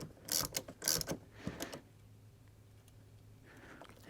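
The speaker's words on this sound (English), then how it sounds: "Just going to get our wrench over here again and snug it up" Wrench snugging a replacement AC service port valve on a GM Chevy Cobalt, giving a few quick ratcheting clicks up close, then a quiet pause with faint mechanical noise.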